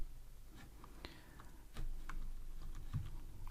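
Someone typing a command on a computer keyboard in a quiet room, a short burst of soft, irregular key taps close by with no speech.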